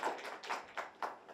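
Scattered hand claps from a seminar audience after a talk on the persecution of Hindus, only a few sparse, fairly faint claps in quick succession rather than full applause.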